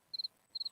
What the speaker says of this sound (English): We got crickets.